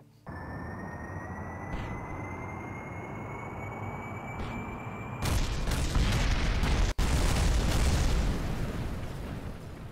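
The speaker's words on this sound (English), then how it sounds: "It exploded all over the runway!" A rocket explodes on the runway in Kerbal Space Program: a rising engine whine gives way to a loud, sustained blast with crackling debris and a rumbling roar that continues to the end.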